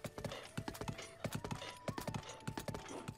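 A horse in Zelda: Breath of the Wild trots with brisk rhythmic clip-clop hoofbeats, steady and close, with a faint background tone.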